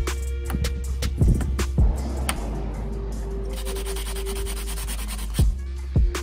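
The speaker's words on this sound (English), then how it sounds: "I'm going to fill that with some body filler and sand that down so it looks smooth underneath" Body filler on a Ford Focus/Fiesta ST part is sanded by hand in close, steady rubbing strokes, with a low continuous hum underneath and a few sharper scrapes.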